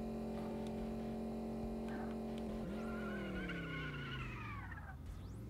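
A car in the racing game Crash Wheels drives a wrong-way lap, its engine tone droning steadily and then sweeping up and down in pitch, with a tyre-squeal-like screech rising near the end.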